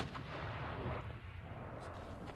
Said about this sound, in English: That was one of the rockets heading out down towards into the plains around the city of Mosul.